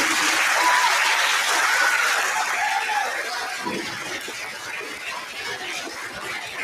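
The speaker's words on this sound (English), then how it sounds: "Can we give them another round of applause, please?" A school audience at a fifth grade recognition ceremony gives steady applause, full and close at first, easing slightly as it continues, with a few faint voices mixed in.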